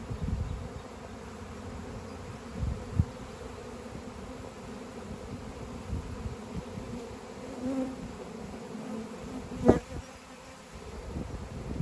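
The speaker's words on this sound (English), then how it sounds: "I'm gonna walk into the swarm." A honeybee swarm streaming out of a hive, a continuous low droning hum of many bees surrounding the listener, with occasional louder passes of single bees close by and faint rustles, no speech.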